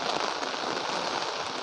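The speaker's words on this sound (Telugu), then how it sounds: "మాకైతే అసలు ఇక్కడ పెద్ద గాలులతో వర్షం బాగా పెద్దగా పడుతుంది" Heavy rain falling with strong winds outdoors, a loud, dense, continuous hiss of drops hitting surfaces, steady throughout with no voices.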